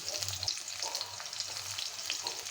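Chopped onion hits hot oil with dried red chillies in a home kitchen, giving a steady close sizzle and crackle of frying with soft stirring scrapes throughout.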